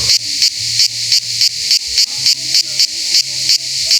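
A cicada on a hot summer day sings in a loud, close, rhythmic buzz, pulsing about three times a second without a break.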